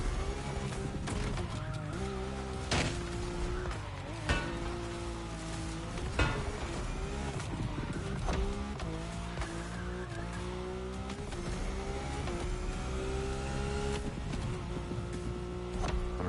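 A rally car in The Crew Motorfest racing game drives hard, its engine revving and shifting continuously with tire noise, squeals and skids over a dense, steady roar throughout, with no talking.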